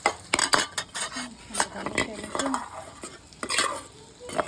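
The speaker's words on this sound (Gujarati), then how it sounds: "આપણે બધામાં નાખીને હલાવી લઈએ છીએ" Onion and garlic being stirred in a pot for a stuffed kantola (spiny gourd) curry: a spoon scrapes and clinks against the metal in an irregular rhythm over a soft sizzle, up close and moderately loud.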